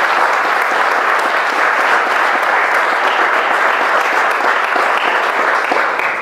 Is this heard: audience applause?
yes